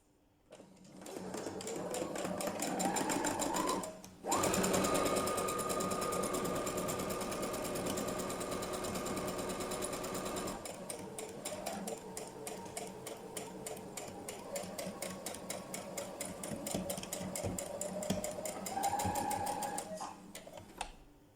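A sewing machine stitches elastic onto a three-layer fabric mask, its needle pounding in a fast, even rhythm close by, pausing briefly near the start and again at the end.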